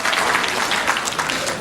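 Seminar audience clapping for a marketing fan page, a steady burst of dense applause from a crowd indoors, loud and continuous throughout.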